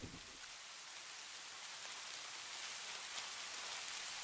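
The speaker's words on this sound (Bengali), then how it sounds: "এই টুকি, বৃষ্টিতে কেন ভিজছিস তুই" Steady rain falls continuously, a dense even hiss of drops on surfaces with no voices or other sounds.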